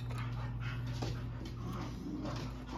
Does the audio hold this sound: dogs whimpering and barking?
yes